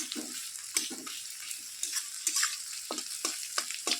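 Onion and garlic frying in oil, with a soft continuous sizzle broken by sharp intermittent clicks and scrapes of stirring, fairly quiet and without speech.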